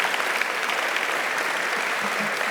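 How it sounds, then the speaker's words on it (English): An audience at a National Philanthropy Day event gives a round of applause for Diana and the Cub Scouts, a dense, even wash of many hands clapping at a steady level throughout. "let's give another round of applause for Diana and our Cub Scouts"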